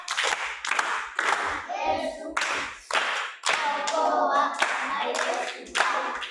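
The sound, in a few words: audience clapping hands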